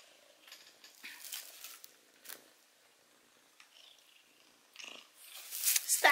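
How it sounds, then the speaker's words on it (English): A cat purrs softly up close in a quiet room, a faint rhythmic rumble broken by small rustles and a few louder handling noises toward the end. "And listen to her purring"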